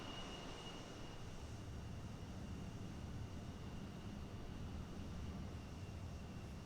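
A steady, broadband jet roar from an F-14 fighter in a flight simulator game, continuous and fairly loud without pauses or talk over it, with a faint high whine on top.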